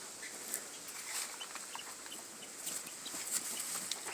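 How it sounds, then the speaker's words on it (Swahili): Chickens cluck softly inside a small shed-like coop on a farm that also keeps sheep and cattle, with scattered faint calls over a steady background hiss. "Hiki ni kibanda kidogo kimejengwa cha kuweka kuku. Kuku wako hapa ndani."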